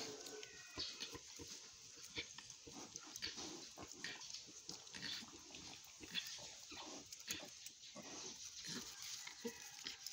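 Newborn crossbreed piglets, less than a day old, squeal and grunt in a steady busy chatter, close by, with constant high-pitched calls over a noisy farm background.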